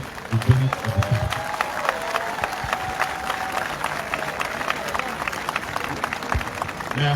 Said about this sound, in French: Vos applaudissements encore